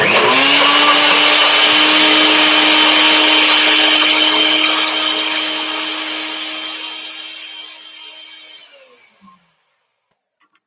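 A loud blender blending lemons whirs steadily for several seconds, then winds down and fades to silence; no voices.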